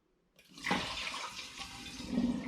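Sugar water pours steadily into a demijohn after a brief quiet start, a continuous gurgling splash that lasts to the end.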